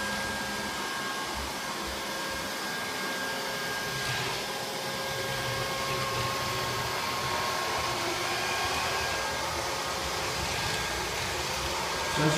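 A Neato Botvac 85D robot vacuum runs with a constant, fairly loud whining motor drone and faint high tones while it cleans nearby, with no talking.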